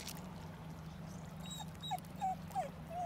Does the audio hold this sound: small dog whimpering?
yes